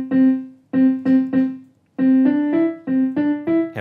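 Starfavor SP-20 digital piano in split mode, playing a short run of clear single notes, first repeating one pitch then stepping upward, each with a bright attack and short decay, close and loud with no talking.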